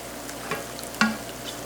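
Ground beef browning in a pan gives a steady close sizzle, with a couple of brief stirring scrapes over the frying.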